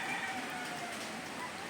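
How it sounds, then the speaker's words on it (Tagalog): Rain falls in Antipolo as a brief, even hiss of drops on surfaces, soft and continuous without any clear talk. "And it's been raining in Antipolo"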